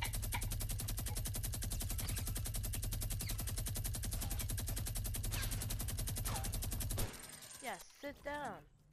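Sustained rapid minigun fire in Fortnite, a dense unbroken stream of shots lasting about seven seconds before cutting off, followed by a few scattered distant bursts and game effects.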